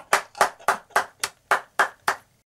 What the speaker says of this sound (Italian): Applauso per questo discorso!